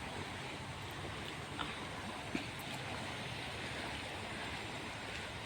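Steady, loud rushing of flowing water fills the whole stretch as one dense, unbroken roar, with no voices over it.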